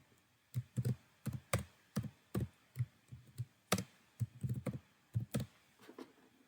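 Keys clack on a computer keyboard in a quick, uneven run of close, crisp taps, quiet overall and heard on their own.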